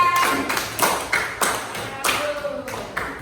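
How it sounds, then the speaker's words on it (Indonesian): A small class of schoolchildren claps in a classroom, a few distinct sharp handclap bursts spaced through the moment rather than a sustained ovation, with some faint voices mixed in. "Tepuk tangan untuk kelompok 3."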